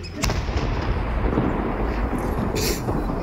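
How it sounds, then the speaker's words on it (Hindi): A suspicious object found on the Baramulla highway in Jammu and Kashmir blows up during defusal: a sharp crack followed by a sustained, loud roaring rumble, with another burst near the end. "आप इस धमाके की आवाज जरा सुनिए जब इसे डिफ्यूज किया गया।"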